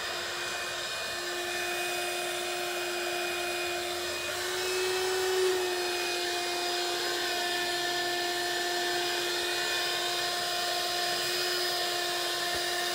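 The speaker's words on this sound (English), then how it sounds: "get you a handheld vacuum and go around and just suck the darn bugs off" A handheld vacuum cleaner sucks bugs off garden plants outdoors, giving a steady, close, high-pitched motor whine. Its pitch shifts slightly midway, with a brief rise in loudness as the nozzle works over the leaves.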